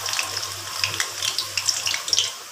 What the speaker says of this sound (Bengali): আলুটা একটু ভেজে নিচ্ছি।